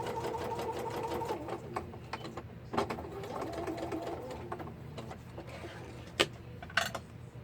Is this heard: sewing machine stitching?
yes